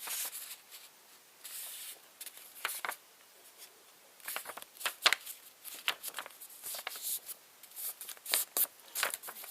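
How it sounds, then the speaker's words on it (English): Paper being folded in half for a paper flower gives soft, close rustles and crinkles in uneven bursts, quiet and with no voices. "what we're first going to need to do is fold this in half like this"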